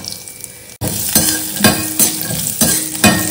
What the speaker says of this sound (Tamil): இதெல்லாம் அப்படியே வதக்கிக்கலாம்.